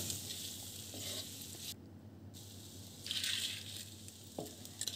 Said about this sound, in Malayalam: ആ തക്കാളി നമ്മൾ ഇതിലേക്കിട്ട് നന്നായിട്ടൊന്ന് ഇളക്കി കൊടുക്കാം